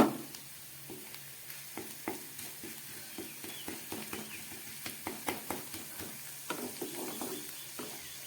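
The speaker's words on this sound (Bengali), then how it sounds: "2-3 মিনিট মতো আমি পেঁয়াজগুলো ভেজে নিলাম একদম গ্যাস কমিয়ে" Onions fry over low heat with crushed garlic cloves in a pan, a soft continuous sizzle broken by repeated scraping stir strokes that come at a steady rhythm, close and fairly quiet.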